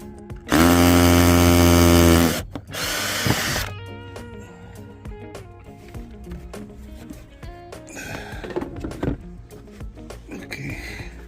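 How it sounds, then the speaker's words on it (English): A power drill whines loudly for about two seconds and then again briefly while an armrest is fitted into a Citroen C3 Aircross, followed by quieter clicks, rattles and handling noises. "So I'm drilling this."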